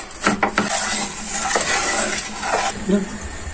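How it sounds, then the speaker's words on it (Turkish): Sugar melting into caramel in a pan, stirred with a utensil that clinks and scrapes against the metal over a faint sizzle, close and steady without speech. "Şekerlerimiz erimeye başladı. Yakmadan pembeleşene kadar karıştıracağız."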